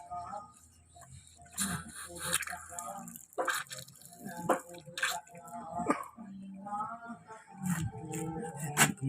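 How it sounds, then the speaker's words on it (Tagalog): A household water line drips in a quiet room, with separate sharp drops falling at irregular intervals, close and clear, while people talk faintly underneath. "Talaga bang tumutulo yan ng ganyan?"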